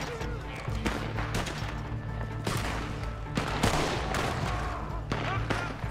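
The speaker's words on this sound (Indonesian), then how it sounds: "Kasih tahu aku cannon mana depan atau belakang yuk yang nembak" Cannon and gunfire during a Red Dead Online fort battle: repeated heavy booming blasts and scattered sharp shots at irregular intervals, loud and close over a dense din of battle.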